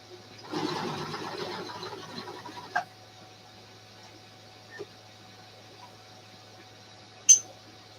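A sewing machine stitching a skirt hums briefly in a short run of about two seconds. Afterward there are a few faint clicks and small knocks in an otherwise quiet room.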